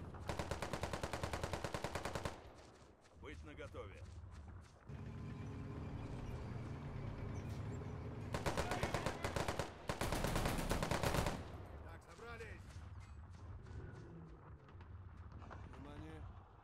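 Soldiers fire guns in the real-time tactics game Men of War: Assault Squad 2, with sustained bursts of rapid automatic fire repeating in several loud stretches, broken by pauses and scattered single shots, while someone talks over it.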